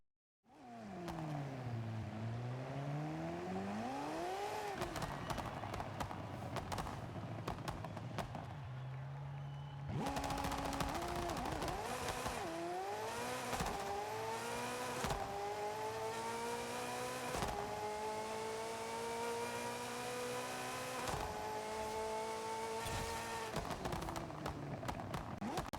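A 1,000 horsepower drag car on stock tires in Forza Horizon 5 revs up, wails through rising gear pulls and screams at sustained high speed, loud and continuous with engine tones climbing and dropping across shifts.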